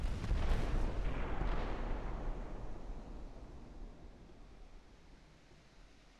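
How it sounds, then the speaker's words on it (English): A warship's main guns fire in the naval video game Ultimate Admiral: Dreadnoughts, giving a heavy boom at the start that rolls into a long, fading rumble, with no voices. "Bouvet and Suffren focusing their main guns on battleships"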